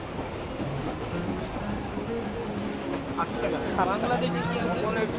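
Carriages of the Maitree Express passenger train roll along with a steady rumbling, rattling drone and faint clatter, while voices chatter over it throughout.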